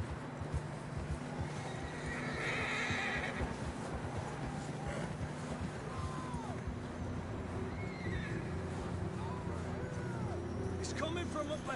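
Horses whinny and neigh in the Red Dead Redemption 2 video game, with hooves clip-clopping beneath. Several calls ring out over steady ambient background, and voices are heard talking.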